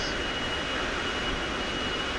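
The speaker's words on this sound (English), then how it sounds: "So, if you're taking off with a big plane like this," A big plane taking off in the Minecraft mod Immersive Vehicles gives a steady, loud engine roar that holds without a break, with no voices over it.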